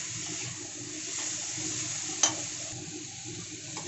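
Radish pieces are stirred in a frying pan with fish heads, a soft sizzle under repeated scraping strokes of a spatula, one sharp clink midway.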